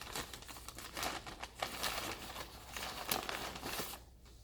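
A McDonald's paper bag holding a McRib crinkles and rustles close up, continuous papery crackling that fades at the end, with no speech.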